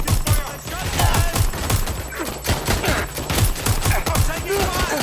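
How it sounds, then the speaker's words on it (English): Rapid bursts of automatic gunfire in the video game Watch Dogs Legion, loud, close and continuous over several seconds, with shouted voices mixed in. "I'm taking fire!"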